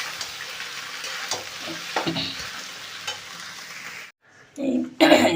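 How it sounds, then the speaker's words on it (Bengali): Boiled chickpeas and peas are stirred into ghugni masala in a pan, giving a continuous close sizzle with scattered spoon scrapes, followed by a short silence and a couple of louder clattering knocks at the end. "এবার মশলার মধ্যে সেদ্ধ করা ছোলাটাকে মটরটাকে দিয়ে দিলাম দিয়ে ভালো করে নামিয়ে চালিয়ে নেব"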